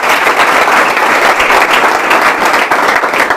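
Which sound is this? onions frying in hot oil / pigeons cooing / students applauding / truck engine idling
students applauding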